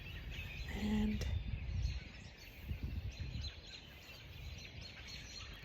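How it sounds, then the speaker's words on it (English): Several birds chirp and call outdoors in a natural area, faint and somewhat distant, with a soft voice briefly speaking near the start over steady low background rumble. "all of these birds are chirping, as you can hear"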